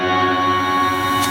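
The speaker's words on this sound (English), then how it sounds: "line 6 Verbzilla on in this setting called Octo, which kind of does a string sound like this." An electric guitar runs through a Line 6 Verbzilla set to the Octo octave effect, giving a sustained, shimmering string-like pad with a high octave layered on top, steady and alone.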